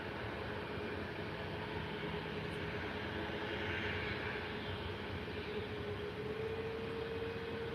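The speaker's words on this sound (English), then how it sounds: "Next arrival is Condor A320 Neo, A321 Neo from Leipzig." A Condor Airbus A321neo arriving at Faro airport produces a steady, broad engine roar with a sustained whine, heard from a distance and holding an even level throughout.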